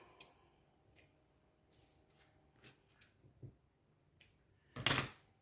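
Scissors snipping in a quiet room as a craft piece is trimmed, a handful of light, separate clicks spread out over several seconds, then one louder, fuller snip near the end, with no talking.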